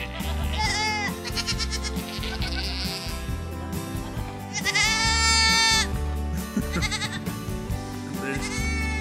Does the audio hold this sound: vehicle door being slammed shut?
no